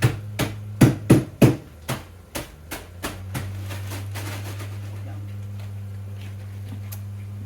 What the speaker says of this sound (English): So now I come in with my meat hammer.